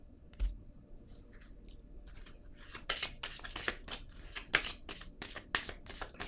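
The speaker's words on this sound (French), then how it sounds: "je vais déposer une carte ici." Tarot-style cards handled and laid down during a card reading: light papery flicks and dry slaps, sparse at first, then a quicker run of close, crisp card snaps.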